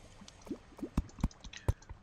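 Water flowing in the video game Terraria: a string of short, soft liquid blips and drippy splashes, each with a quick sliding pitch, arriving in an irregular patter of about half a dozen, close and moderately quiet, with no voices.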